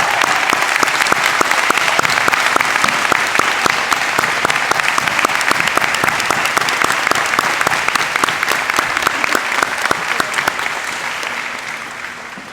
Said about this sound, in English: I would like you to join me in giving a hearty, warm round of applause for Mrs. Juana Rodriguez and her daughter Fa